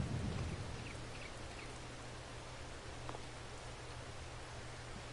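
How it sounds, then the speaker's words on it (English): Rain keeps coming down outside, a steady broadband patter with scattered drop hits and a low hum beneath, constant and unbroken with no talking. "Listen to that rain."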